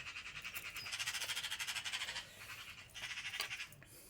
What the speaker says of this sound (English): As you can hear, the birds are having a bit of a head fit